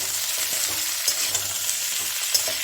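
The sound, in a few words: potatoes and drumsticks frying in a pan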